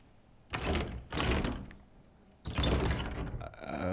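Door in the Resident Evil 7 video game closes in a few heavy thuds and scrapes, separated by short pauses, fairly close and alone without talk.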